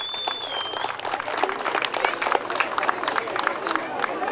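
An outdoor picnic crowd applauds a lawmaker invited onto the stage, dense clapping swelling and continuing steadily with some crowd noise underneath.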